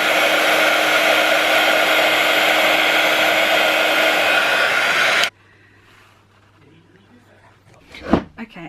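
A heat gun used for heat embossing a handmade greeting card blows with a loud, steady airy roar for about five seconds, then cuts off abruptly, leaving a quiet room broken by a single soft knock.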